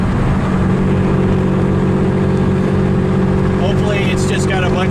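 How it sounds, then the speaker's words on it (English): A boosted Dodge Dakota truck with a new turbo exhaust setup and a slipping clutch: its engine roars in a loud, steady, close drone, with a voice briefly audible near the end. "Yeah, the clutch is slipping."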